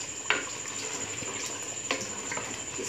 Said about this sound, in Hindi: इसको अच्छे तरीके से हम भून लेंगे